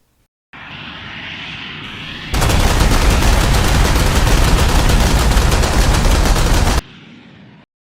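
MiG-9 jet prototype firing its 57 mm and 20 mm cannons in flight: a steady jet engine drone gives way to a sustained, loud rapid burst of cannon fire lasting several seconds, then the engine drone alone again.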